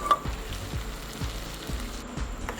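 Mutton with ginger garlic paste sizzling in a pan for mutton sukka, a soft steady hiss with a few low thumps and scrapes, close and without talk.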